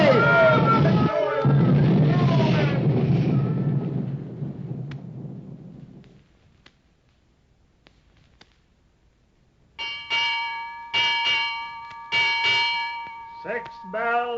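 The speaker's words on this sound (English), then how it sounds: "6 bells and all's well" Rumbling noise fades to near silence, then a ship's bell rings six bells, clear metallic strikes in spaced pairs, bright and fairly close.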